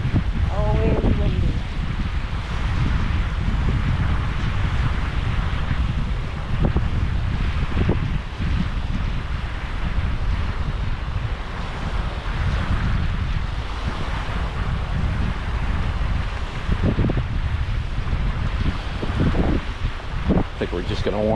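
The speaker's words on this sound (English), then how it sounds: "And windy. Always windy." Strong wind buffets the microphone steadily on a cool coastal beach at a marsh point, a loud continuous roar with gusty surges and possible surf beneath, with occasional brief speech.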